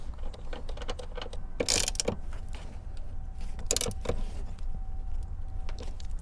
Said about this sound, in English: let's grab your T50 socket and ratchet. And let's go ahead and put the 4 corresponding screws back in.